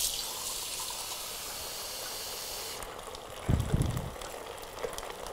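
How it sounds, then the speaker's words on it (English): Water pours steadily into a cooking pot over fish, a hissing, rushing stream that stops abruptly, followed by a few low clunks and bumps of handling. "And we're going to add water to this"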